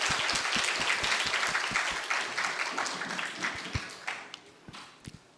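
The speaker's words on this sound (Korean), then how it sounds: "하나님 앞에 크게 영광의 박수를 한 번 더 돌리겠습니다" Worshippers applauding during a Sunday church service, a full burst of clapping that gradually fades to a few scattered, isolated claps.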